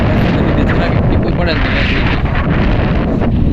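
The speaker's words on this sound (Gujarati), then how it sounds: "આવો પવન અને આવો વરસાદ ઓલી સાઈડ અંધેરો છે" A storm's strong wind and rain roar constantly and loudly into the microphone, buffeting it throughout with a brief voice underneath.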